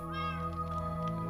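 A Minecraft cat lets out a single short meow over a steady, sustained in-game background tone.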